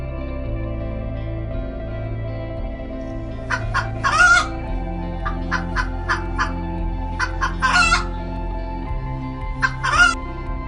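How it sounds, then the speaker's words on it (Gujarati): A hen clucks in short bursts and repeated notes, close by, over a low droning musical background. "હેન એટલે મરઘી."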